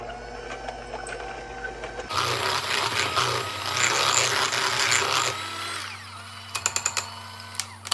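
An electric hand mixer whirs through yellow cake mix and instant vanilla pudding mix batter, a steady motor drone that rises in intensity and then eases, followed by a few clicks and taps.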